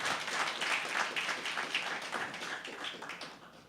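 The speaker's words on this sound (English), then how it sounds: "Let's give ourselves a good round of applause." A room full of people claps together at a press conference, a sustained patter of applause that holds fairly steady and then gradually tapers off.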